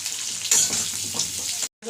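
Garlic, chillies and a small chopped onion sizzle steadily in hot oil in a pan, a continuous crackling fry that cuts out abruptly near the end for a brief silence before resuming.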